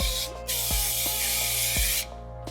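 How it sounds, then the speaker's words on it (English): L'Oreal Boost It High Lift Creation Spray hairspray hisses from an aerosol can in one loud, close, continuous burst lasting about a second and a half, with faint clicks around it and no talking. "I'm going to take my L'Oreal, this is the Boost It High Lift Creation Spray."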